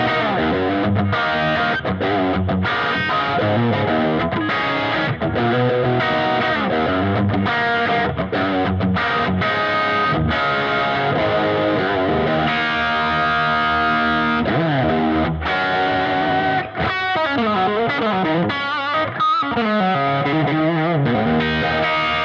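An Epiphone ES Les Paul Pro electric guitar, a semi-hollow body, played loud through high-gain distortion with effects, sustained chords and riffs ringing continuously with no talking.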